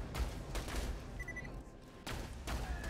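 Rapid bursts of gunfire in Borderlands 2 aimed at the player, crackling in dense volleys that fill the stretch and drop briefly in the middle before resuming, with a faint high electronic tone layered over the shooting.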